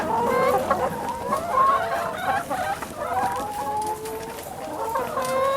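Free-range hens cluck continuously while laying eggs on a farm, a busy close chorus of overlapping clucks and drawn-out cackles with no talking.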